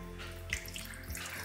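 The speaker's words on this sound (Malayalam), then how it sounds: "കുറച്ച് വെള്ളം ചേർത്ത് കൊടുത്തിട്ടുണ്ട്" A little water is poured into chopped green chillies before they are ground for pachamulaku pakkavada. It makes a brief, soft, close trickle of running water.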